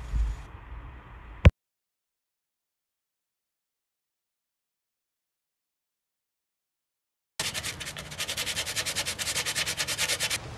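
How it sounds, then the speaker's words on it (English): An orbital sander working over a wooden dresser, a close buzzing rasp that starts, cuts out abruptly after a thud, then returns loud and steady after several seconds of silence. "it just took several angles with my orbital sander and then with a piece of sandpaper wrapped around a stick"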